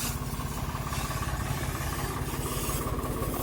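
A tractor engine idles nearby, its loud chugging pulse steady and rhythmic with a rattling vibration throughout.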